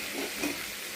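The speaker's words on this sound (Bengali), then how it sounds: "তারপরে এখন 5 ফোড়ন দিলাম, তারপরে তরকারিগুলো ছেড়ে দিলাম। তরকারিগুলো হোক ভাজা ভাজা" Radish, eggplant, pumpkin and potato fry in hot oil with five-spice tempering after a fish head has been browned, giving a steady close broadband sizzle with light stirring and no talk.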